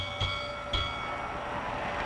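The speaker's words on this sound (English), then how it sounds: "Here's the bell." A boxing ring bell ends a round in a Joe Louis vs Ezzard Charles heavyweight fight, two quick bright dings about half a second apart over a constant roar of crowd noise.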